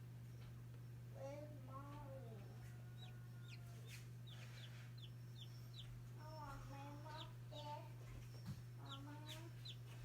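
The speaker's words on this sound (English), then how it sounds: "I bet he's the one that's making all the peeping" High, quick peeps come in short bursts from a chick inside a cracked egg, faint and close, over a steady incubator hum. A voice is heard near the end.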